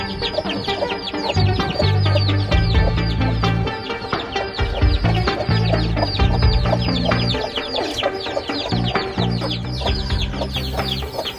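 A flock of chickens with young chicks in a brooding box clucks and cheeps continuously, with high peeping chatter over lower hen clucks, loud and close, with no speech.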